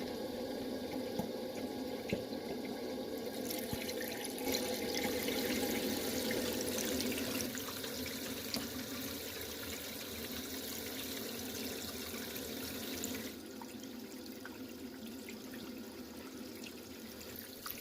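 Tap water runs steadily, splashing and trickling over moss, a continuous close wash of water with slight shifts in tone.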